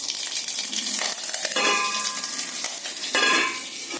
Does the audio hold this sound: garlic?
yes